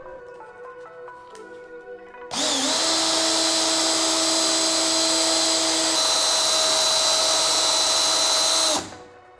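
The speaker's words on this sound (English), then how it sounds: "I'm going to go ahead and sand this side down" A high-pitched power sander whines steadily on wood for several seconds, loud and close, then cuts off abruptly, with quieter handling noise before it starts.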